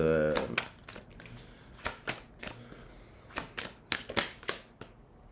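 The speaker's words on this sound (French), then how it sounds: "Elles retombent, les cartes." Tarot cards being shuffled and dropping back together, a series of sharp close riffling slaps and clicks at irregular intervals, with a brief voice at the very start.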